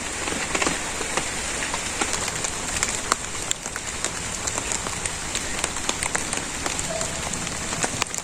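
Steady rain falls on surfaces outdoors in a village, a continuous dense patter with scattered sharper drops close by, running without pause and with no voices.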